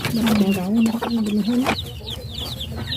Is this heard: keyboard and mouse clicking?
no